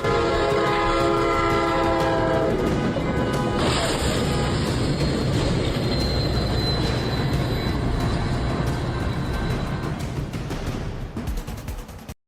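A train rushes past a railway crossing in a loud, continuous roar with rattling wheels and squealing, while a sustained horn blares over the first few seconds. A crash-like burst comes as a pickup truck's exposed rear is shredded.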